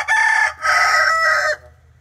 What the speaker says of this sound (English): That's a very good crow, Hendolph.